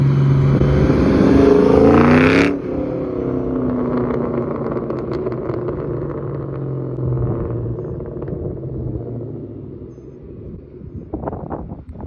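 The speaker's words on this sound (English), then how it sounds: "Snap, crackle, pop, and a little bark from the MagnaFlow Magnapacks." Ford Mustang with MagnaFlow Magnapack mufflers: a loud exhaust note that cuts off sharply after a couple of seconds, followed by lower rumbling idle and scattered crackles and pops, with a few sharper bursts near the end.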